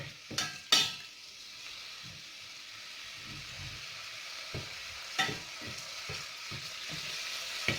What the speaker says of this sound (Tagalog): Prito natin ng kaunti.